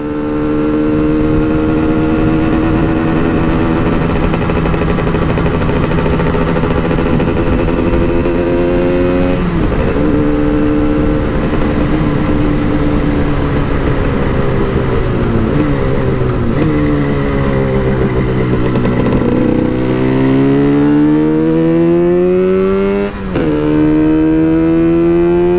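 A two-stroke motorcycle engine runs loud and close, its buzzing drone rising and falling through several revs and gear-like pitch shifts, with no talking.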